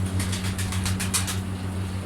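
A breeding female pet bird flutters its wings in flight close by, a quick run of soft flapping bursts over a steady low hum.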